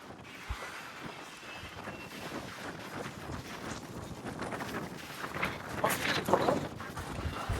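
Gusty wind buffets the microphone with a continuous rough roar that grows stronger toward the end, punctuated by occasional thumps.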